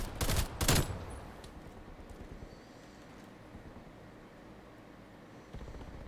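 Video game gunfire from an AUG burst rifle and a nail gun: a quick cluster of loud, sharp shots opening the moment, then a low, quiet ambient background with faint distant pops.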